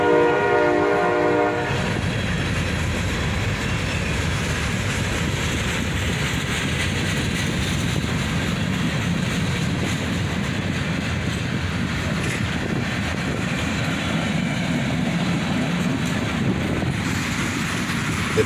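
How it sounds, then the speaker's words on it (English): A southbound freight train hauled by EMD locomotives rolls past close by, a loud continuous rumble and rushing roar with a brief horn-like tone at the start, sustained throughout. "there's a southbound with EMD power on the other track behind it"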